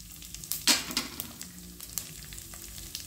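Cinnamon, cloves and asafoetida sizzle and crackle in a pan while being dry-roasted for sambar powder, with soft irregular pops and a louder stirring scrape near the start, close and fairly quiet.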